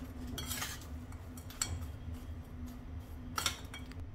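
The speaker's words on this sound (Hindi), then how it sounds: "अब मिश्री को भी इस तरह से मिक्स कर लेंगे" A spoon stirs mishri into dry panjiri with light metallic scrapes and clinks against a vessel, a few quiet strokes over a low steady hum.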